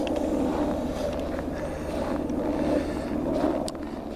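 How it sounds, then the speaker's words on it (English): A helicopter passes over a quiet rural spot in Maine, a low throbbing engine drone with steady rotor pulsing that swells slightly and holds, moderately loud over faint wind noise, with no voices. "Now you just heard a helicopter go by."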